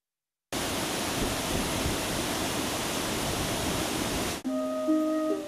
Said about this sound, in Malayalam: മഴ സമൃദ്ധിയിൽ ആസ്വാദകരുടെ കണ്ണിനും മനസ്സിനും കുളിരേകുകയാണ് പൂവഞ്ചെറിയിലെ കാരക്കുഴി വെള്ളാനി വെള്ളച്ചാട്ടങ്ങൾ